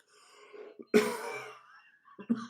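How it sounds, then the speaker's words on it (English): A single harsh cough sounds close up, preceded and followed by quieter throat noises and breathing. "Sorry about the coughing."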